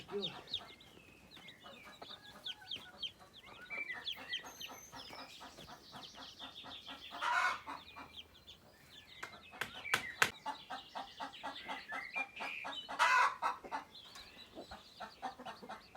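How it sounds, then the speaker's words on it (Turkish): A hen near a coop with newly hatched chicks squawks repeatedly after laying an egg, a loud broken run of clucks with sharper bursts, while other chickens call around it. "Bağıra bağıra geliyor. Yumurtladığını haber veriyor."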